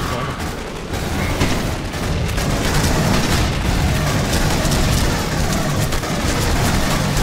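Dense, continuous gunfire and explosions from the video game Aliens: Colonial Marines as a player loses armor, loud and unbroken with sharp bursts throughout.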